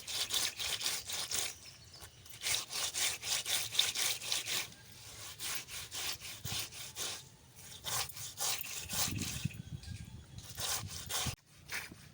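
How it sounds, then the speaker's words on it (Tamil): Fish being scrubbed by hand with kolam rice flour powder, producing continuous rapid gritty rubbing and scraping strokes, close up and steady with brief pauses, no talking. "இது கோலமாவு போட்டு தேய்ச்சோம்னா தேய்க்கிற மீன் தேய்க்கவும் ஈஸியாக இருக்கும்"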